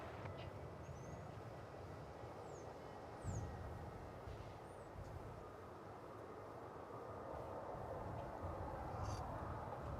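American Airlines Boeing 787-9 Dreamliner arriving at DFW Airport, heard as a steady, broad jet rumble at a distance with wind noise and faint high chirps of birds over it.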